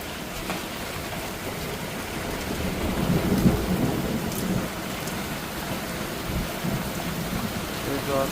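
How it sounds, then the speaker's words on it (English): Heavy monsoon rain pours down steadily and loudly, splashing on ground already covered in standing water, with thunder rumbling underneath throughout. "it's raining so hard"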